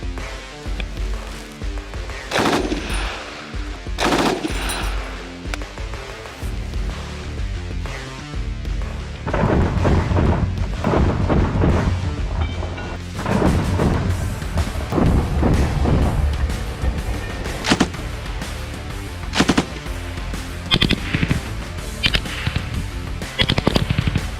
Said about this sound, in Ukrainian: Підкрутивши ще газовий регулятор, виконаємо стрільбу.